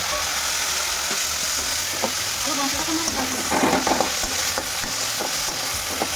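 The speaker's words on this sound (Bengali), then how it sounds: "তো দেখো বন্ধুরা ভালোভাবে কাঁকড়াটা ভেজে নিচ্ছে" Crab fries in a pan with a continuous loud sizzle, broken by scraping and clinking as the pieces are stirred, close up and busy throughout.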